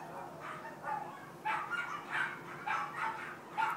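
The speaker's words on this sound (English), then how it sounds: "The dog's barking." Dog barking at a distance, a run of repeated muffled barks in an uneven rhythm, faint against a quiet indoor background with a low steady hum.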